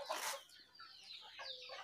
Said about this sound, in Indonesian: ayamnya ayam kampung sobat PRT